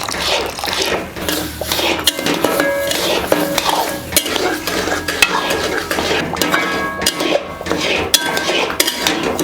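Sugar caramelising in a pan for Tirunelveli halwa is stirred constantly, with loud, busy scraping and clinking of a metal spoon against the pan over a low bubbling hiss, continuing without pause.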